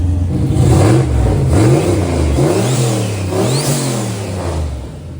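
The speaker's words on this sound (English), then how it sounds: "Hey, that's a good motor right there, bud." A car engine fitted with a very cheap turbocharger revs repeatedly, loud and close, its pitch sweeping up and down in several blips over a steady idle, with a faint rising turbo whine and no talking.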